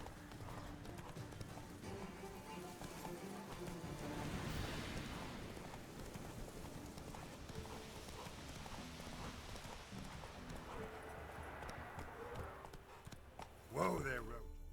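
Horse hooves clip-clopping in rhythm while riding in The Witcher 3, a steady close trot under a soft outdoor ambience, with a short whinny or snort near the end.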